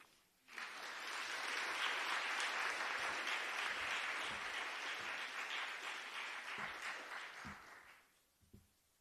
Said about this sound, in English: Yeah, polite applause.